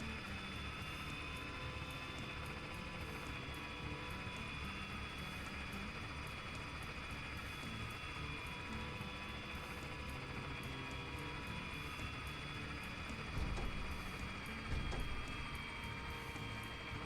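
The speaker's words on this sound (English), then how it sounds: "it's coming for a landing right here." An aircraft in a video game drones steadily as it comes in to land, a continuous engine roar that holds throughout, with a slight swell near the end.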